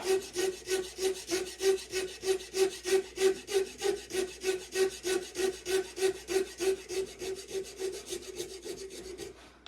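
Steady back-and-forth rasping of a file taking a small nub off a wooden longbow tip, about two strokes per second, close and loud with no talking.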